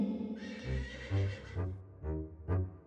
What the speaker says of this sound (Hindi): तभी उसने एक घोड़े की आवाज सुनी